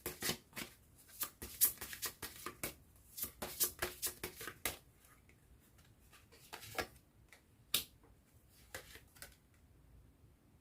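Advice cards being shuffled and drawn from a deck, a run of soft rapid riffling and flicking taps in irregular clusters, close and quiet with no talk.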